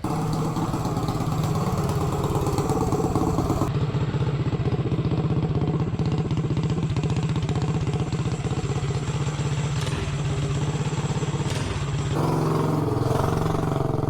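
A mini bike engine with an 8-inch exhaust extension runs steadily nearby with a raspy, buzzing exhaust note, rising slightly in pitch partway through and holding.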